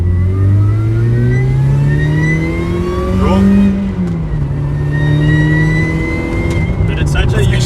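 A supercharged Mazda MX5 NA engine revs and pulls hard from inside the cabin, pitch rising then settling into a steady drone, with a supercharger whine on top.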